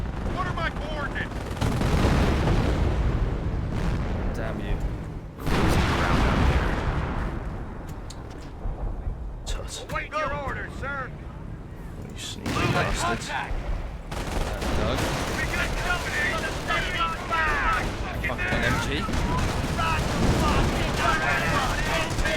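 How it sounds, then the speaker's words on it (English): Howitzer artillery barrage in the Company of Heroes strategy game, with heavy repeated booming explosions and crackling gunfire in dense waves, interrupted by a brief lull and then resuming loudly, with game voices mixed in. "they're just in range for a nice howitzer barrage"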